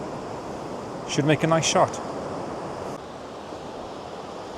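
Sea water and breaking surf wash steadily at Borth Beach, a broad continuous roar with wind rumble on the microphone while someone briefly speaks over it.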